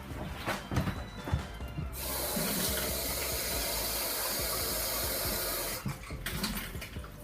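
Water poured from a tap into homemade barbecue sauce to thin it, a steady broadband splashing stream running for several seconds between bursts of kitchen clatter and handling noise.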